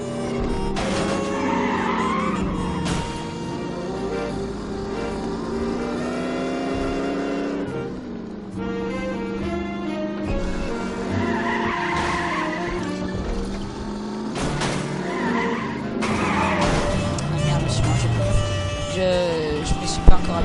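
A car in the video game The Saboteur drives with a revving engine and repeated tire squeals and skids, under a person talking.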